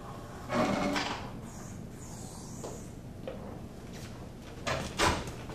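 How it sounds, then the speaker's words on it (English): Door being closed in a school building, a muffled thump and click from a short way off, then a second soft latch knock a few seconds later in a quiet room. "I'm going to close this door"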